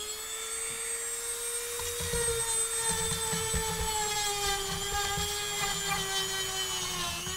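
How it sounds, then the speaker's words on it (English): A drill bores sideways in wood to enlarge a hole during drawer building, a loud, steady high-pitched motor whine with rising and falling pitch and irregular cutting rumble beneath, no speech. "I'm basically going to the left and the right here, enlarging the hole"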